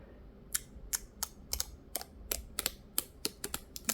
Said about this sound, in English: So let's peel off the stickers together right here.